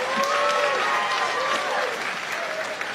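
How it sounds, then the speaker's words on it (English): A stand-up comedy audience in a large venue breaks into loud, sustained applause mixed with crowd noise and a few whoops and cheering voices, gradually easing slightly toward the end. "How many of you, by applause, believe there's a God?"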